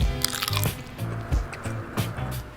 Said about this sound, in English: Listen for the crunch factor.